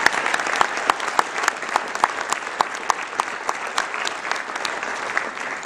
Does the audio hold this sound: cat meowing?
no